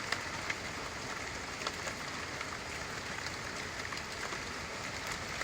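Steady rain falling outdoors, a dense even hiss with scattered drop taps and no speech.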